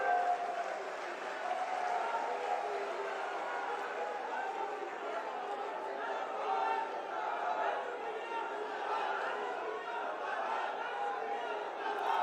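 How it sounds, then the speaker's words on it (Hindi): An audience applauds at a public commemoration in Aligarh for Kalyan Singh's death anniversary and Hindu pride day, with sustained, even clapping and crowd murmur that sounds somewhat distant. "एक बार तालियां बजा के स्वागत हो जाए सभी का।"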